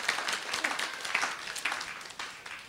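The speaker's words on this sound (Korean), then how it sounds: "이럴 때 수준 있는 사람들은 박수를 칠 줄 안다니까요" Audience clapping during a church talk on parenting and children's self-esteem, given in a hall. Applause runs steadily through the whole stretch, dense and fairly even with a few sharper claps standing out, heard at moderate distance.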